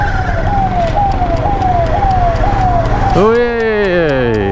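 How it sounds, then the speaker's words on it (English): An ambulance siren on an Indian road in Maharashtra, heard from a motorcycle riding behind it, loud and close. It wails in a repeating rising sweep and then shifts into a faster warbling pattern over steady road and engine noise, with a brief exclamation from a rider. "Oh, that's an ambulance we're behind."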